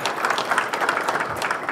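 An audience at a fintech forum breaks into applause, a dense and fairly loud spread of clapping that holds steady throughout with no voices over it.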